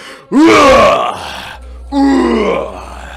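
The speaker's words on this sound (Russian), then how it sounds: "Главное не забывай дышать. И орать, чтобы все знали, что ты как зверь" A character in the Gym Simulator video game yells while lifting weights: two loud, close, strained roaring groans, the first long and rising, the second shorter after a brief pause, over a low hum.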